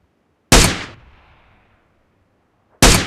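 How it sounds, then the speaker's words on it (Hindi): Two loud, sharp gunshots from a weapon in PUBG Mobile ring out a couple of seconds apart, the first trailing off in a long fading echo, with no talking. "क्या फायर कर दा है"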